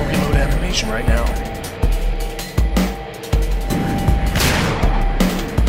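A shotgun fires in the turn-based zombie-survival video game Dead State. Several sharp, loud blasts land at irregular intervals among impacts and crashes, with someone talking over the action.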